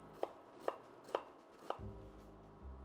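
A knife chops an onion on a cutting board: four crisp, evenly spaced strikes, close and clear, followed by a soft low rumble.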